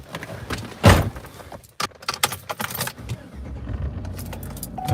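Keys jangle close by as someone climbs into a work car, owned since 2011, whose starter is failing. A sharp door thump comes first, then scattered clinks and shuffling inside the vehicle.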